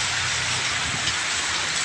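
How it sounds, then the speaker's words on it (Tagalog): Heavy rain pours steadily outdoors on a muddy site near a warehouse, a dense, continuous hiss filling the whole moment, close and loud with no voices. "Kasi lakas ang ulan"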